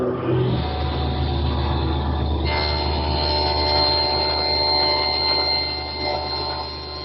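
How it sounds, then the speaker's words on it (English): A table saw blade rises up through a pine blank clamped to the saw table, giving a steady, loud machine roar with a grinding, rattling texture that shifts partway through as the blade bites into the wood. "take the blank of pine and clamp it to the saw table, then raise the blade through it"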